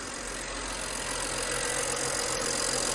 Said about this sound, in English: There's no check engine light, it's running smooth.